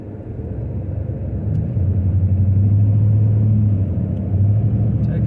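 A car driving on the road gives a continuous low engine rumble and road noise, with the hum growing louder and steadier after the first couple of seconds and no voices.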